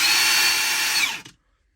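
Hercules Ultra Torque Gen 2 impact wrenches, 1/2 and 3/4 inch drive, free-spinning with a loud, steady high-pitched whine for over a second before cutting off abruptly into silence.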